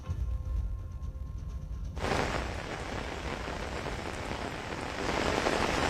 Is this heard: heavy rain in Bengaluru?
yes